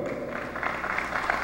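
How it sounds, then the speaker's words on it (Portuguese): Applause from the audience at a public hearing in a municipal council chamber, a steady, dense clapping that fills the room evenly from start to finish at moderate level. "Uma salva de palmas para o vereador."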